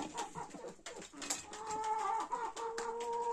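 Several Adler Silver hens cluck and murmur close by, with short overlapping calls and a few higher squawks against a busy farmyard background.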